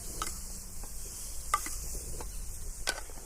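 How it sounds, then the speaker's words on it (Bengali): Neem soap melting in a saucepan is stirred, giving faint scraping and soft bubbling with a few sharp clicks of the spoon against the pan, close and quiet with no voices. "এইভাবে আমি নেড়ে নেড়ে কিন্তু সাবানটিকে খুব ভালোভাবে গলিয়ে নেব।"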